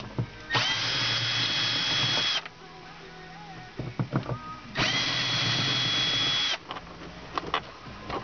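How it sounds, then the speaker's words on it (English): A small electric screwdriver removes sun visor screws in an MG ZT (Rover 75) car, whirring in two long, steady bursts separated by a quieter gap of short clicks and handling knocks. "Right, I'm using a little electric screwdriver."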